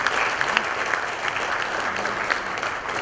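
An audience at the Glocal Teen Hero 2016 event applauds a teen finalist, giving a steady wash of crowd clapping that keeps an even level for about three seconds.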